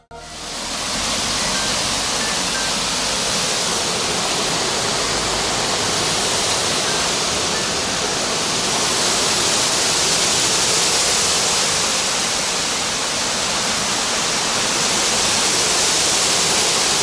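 Water cascading over a weir on the Ptich river, a steady, loud, continuous rush of falling water with no breaks, heard close by.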